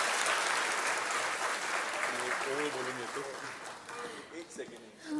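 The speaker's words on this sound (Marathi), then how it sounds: "जोरदार टाळ्या आणि खरंच खूप खूप आभार" Loud audience applause following a speech at a centenary gathering of the Bahishkrut Hitakarini Sabha, a dense sustained wash of clapping that thins out near the end, with a voice faintly audible underneath.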